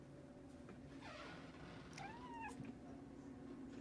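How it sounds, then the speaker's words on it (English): A small cat lets out a couple of high, drawn-out meows over a low background hum, fairly close and soft. "Oh, sweet little meow."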